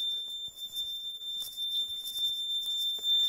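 A Simplex 4010 fire alarm panel sounds its supervisory signal, a continuous high-pitched electronic tone holding steady over faint room noise.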